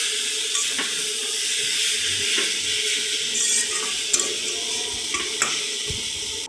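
Leafy greens (saag) fry in a pan with salt and a little oil, making a steady soft sizzle with occasional sharper clicks and scrapes of stirring.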